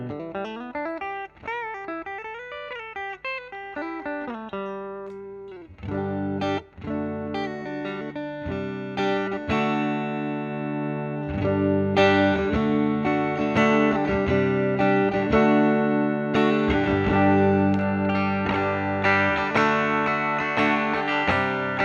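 Fender Stratocaster through a hand-wired Vyse Renegade tube amp with the guitar volume rolled back, giving clean, clear single notes and chords that build into fuller strummed playing, close and steady.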